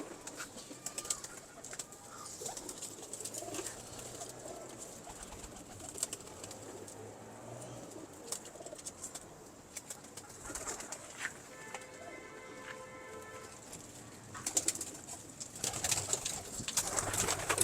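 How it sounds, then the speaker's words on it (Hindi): Old pigeons of the Lakhi breed coo softly in a loft, low murmuring calls mixed with rustling and faint chirps from other birds, a moderately distant, continuous background with a few louder bursts. "ये मेरे बड़े पुराने कबूतर है"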